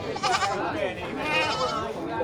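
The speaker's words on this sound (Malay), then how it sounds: "tidak banyak terlihat kambing jantan atau kambing bandot" Goats bleat at a quiet livestock market, with several wavering calls overlapping, close and fairly loud, while people talk over them.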